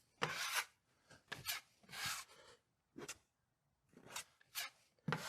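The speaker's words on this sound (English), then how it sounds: "Take about that much mud, put it directly on the nail, and then pull it down with that flat angle." A drywall knife smears and scrapes joint compound over screw heads on a wall, giving a series of short, close rasping strokes with brief pauses between them, each stroke a gritty swipe.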